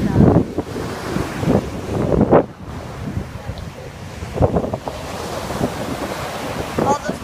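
Ocean waves surge and break on the shore of Sable Island near a seal colony, with strong wind buffeting the microphone in loud, uneven gusts throughout.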